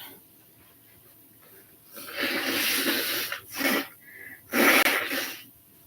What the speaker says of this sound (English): I hate blowing my nose on camera